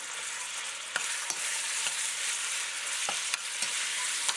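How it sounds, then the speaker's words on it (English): Ground beef hits hot olive oil in a pot, giving a loud, dense, continuous sizzle up close, dotted with occasional sharp clicks of stirring. "When the oil is hot, place the ground beef into the pot."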